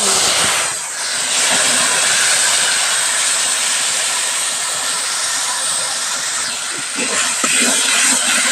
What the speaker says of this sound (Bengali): এবার জিরে ফোড়ন দিয়ে দেব জিরেটা ফোড়ন দিয়েছি বাটির মশলাগুলো